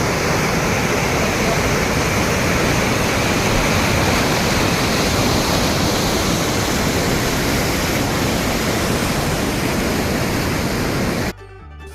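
A waterfall roars as a loud, steady, broadband rush of falling water that continues unbroken for about eleven seconds, then drops away abruptly.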